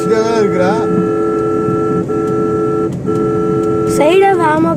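Sustained, loud vehicle horn blaring from a car stuck behind a lorry spilling gravel on the road, holding a steady tone for several seconds with brief breaks, while a voice talks over it.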